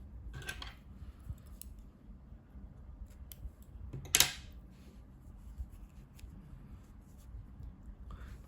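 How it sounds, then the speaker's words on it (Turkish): Scissors snipping crochet yarn after finishing a small crocheted daisy, a few quiet close snips and clicks in an otherwise hushed space. "İpliği kesiyorum."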